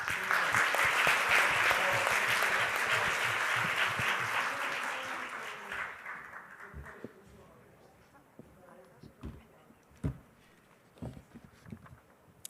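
An audience at a security training program entrance ceremony claps loudly as a speaker is invited to the podium, the applause fading out after about six seconds into scattered claps, shuffling footsteps and quiet room noise.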